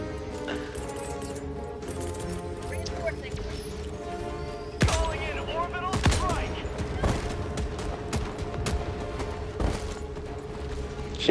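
Gunfire in Helldivers 2 on a cold planet: scattered sharp shots and bursts crack out of a busy game mix, heavier in the second half, while people talk over it.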